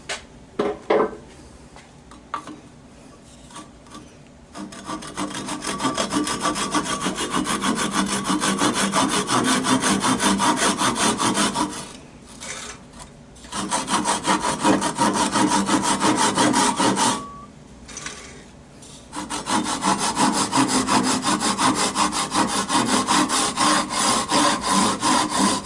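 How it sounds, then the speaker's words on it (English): A hand saw cuts through a wooden offset tea light turning with a rough, rasping back-and-forth stroke, loud and close, pausing briefly twice before finishing, no speech. "it off with a saw, the last little bit"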